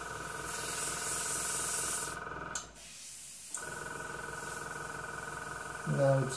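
A cheap Chinese airbrush sprays thinned acrylic paint, a soft steady hiss close by that stops briefly and then resumes, with a small clatter near the end.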